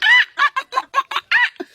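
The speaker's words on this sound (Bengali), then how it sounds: "মুরগি মুরগি মারামারি চলছে।" Chickens squabble in a burst of loud, close clucks, a rapid run of six or seven sharp squawking calls in quick succession.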